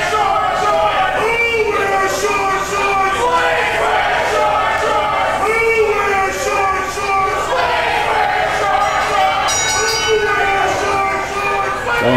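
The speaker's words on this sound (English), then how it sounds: "as soon as that bell rang" A ring bell clangs at a pro wrestling show, its ringing partly buried under a loud, constant roar of crowd noise while an announcer talks throughout.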